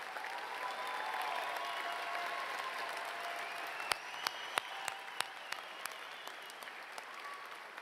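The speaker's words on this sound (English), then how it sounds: "Let's give them a great round of applause." Audience applause at a 2018 Wheat Ridge high school graduation ceremony, steady moderate clapping from a large crowd across the whole stretch, with a few sharper individual claps standing out toward the end.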